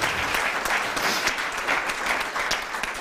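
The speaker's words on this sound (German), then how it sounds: "Vielleicht auch da nochmal einen Applaus." Sustained applause from an audience at an academic ceremony (Dies academicus) honouring award recipients, steady clapping throughout with no talk over it.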